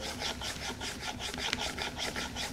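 A chisel blade strokes back and forth on an 8000 grit whetstone, a soft rhythmic rasping of about two strokes per second, close and steady with no talk.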